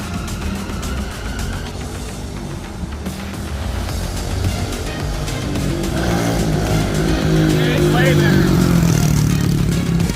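Kawasaki KLX 110 motorcycle engine revving on a dyno, a buzzy single-cylinder drone that climbs steadily in pitch and loudness over about ten seconds, close and continuous.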